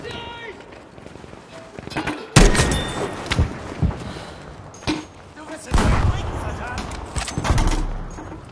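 A grenade thrown and exploding in Battlefield V multiplayer, with heavy booming blasts and gunfire bursts close by, loud thuds repeating over a few seconds amid a busy battle din.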